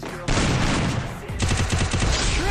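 Gunfire in the Free Fire battle royale game, loud close bursts of rapid automatic shots, with a short pause before a second rattling burst.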